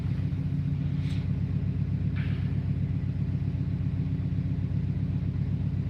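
A car engine idles at stock idle with a steady, low rumble close by. The rumble stays even throughout, with a couple of faint clicks over it.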